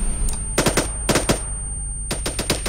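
Video game gunfire in a GTA roleplay session: three quick bursts of automatic shots, each a rapid cluster of sharp cracks, separated by short pauses, fairly loud and close, with no talk.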